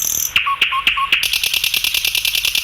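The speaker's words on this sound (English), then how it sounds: "N for nightingale" A nightingale song sound effect: quick, bright whistled chirps repeat in a steady rhythm, first spaced apart and then in a faster run of evenly paced notes, close and clear with no voices.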